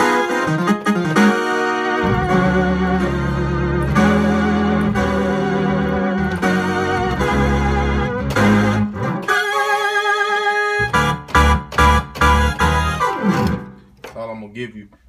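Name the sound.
synth bass layered with another synth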